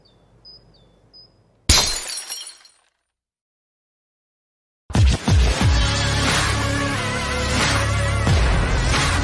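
A glass bottle shatters with a sharp crash and ringing shards in a vodka commercial, then a pause of silence before loud music kicks in.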